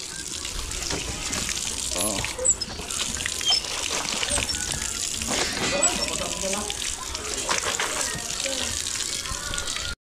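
Water gushes steadily from someone's hand-pumped faucet, a continuous close splashing stream with a brief voice over it.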